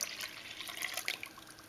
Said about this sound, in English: I'm gonna pour in milk.